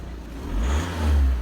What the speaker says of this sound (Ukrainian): Зараз погазую. Чути маховичок.